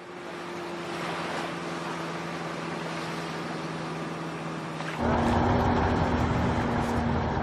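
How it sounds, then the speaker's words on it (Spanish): A modern motorboat used by Inuit hunters for whale hunting runs with a steady engine drone over rushing water and wind. Partway through, the engine note drops and grows louder, and the roar carries on without a break. "Los inuits usan lanchas modernas"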